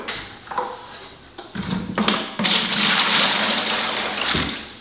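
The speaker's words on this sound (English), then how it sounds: "I'm just going to put like an inch of water in the bottom of this bucket." Water pours from a hose or container into the bottom of a bucket, starting with a few knocks and splashes, then a steady loud gushing stream that fills the space before easing near the end.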